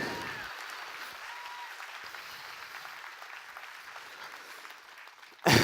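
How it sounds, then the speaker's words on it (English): Audience applause at a live music performance, sustained steady clapping that slowly fades, ending with a sudden loud burst of sound. "one more round of applause"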